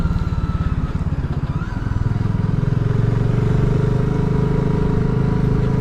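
A motorcycle rides along a narrow gravel single-track road between high stone walls near Hebden, its engine a steady, close, rhythmic thrum that picks up slightly in pitch partway through, with no speech.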